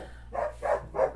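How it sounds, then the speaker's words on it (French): Dogs barking at a distance in a home setting, three separate barks in an even rhythm, moderately loud over a faint low hum. "Voilà, les chiens gueulent"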